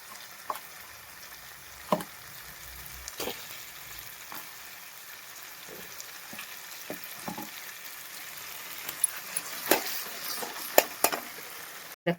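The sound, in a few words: bhujji sizzling as it is tempered in a pan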